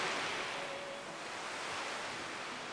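Sea waves in a visual novel game, a steady, soft wash of broadband surf noise with no clear individual breaks, heard alone at a moderate distance.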